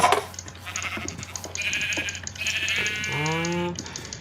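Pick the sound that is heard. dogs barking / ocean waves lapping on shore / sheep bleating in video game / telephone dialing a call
sheep bleating in video game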